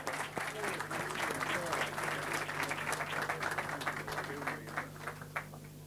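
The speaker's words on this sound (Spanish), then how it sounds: "Nuevamente el aplauso, gracias a todos." Audience clapping at an industrial fair in Río Cuarto, a steady, fairly distant and moderately quiet patter of many hands that continues throughout, with a low hum running beneath it.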